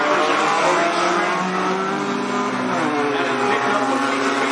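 Race cars roaring around the oval at Cottage Grove Speedway during a hornets race, a dense, loud, continuous engine drone with rising and falling revs from several cars on track.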